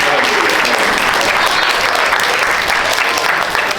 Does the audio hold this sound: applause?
yes